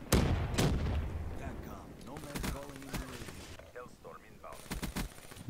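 Explosions and gunfire in the video game Call of Duty: Black Ops III, loud repeated blasts and bursts of shots in quick succession, with a voice talking over the battle.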